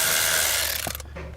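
A ratchet loosens a stubborn car bolt while plastic trim is being pulled out, a short burst of clicking and rubbing that ends suddenly in near silence, with no one talking.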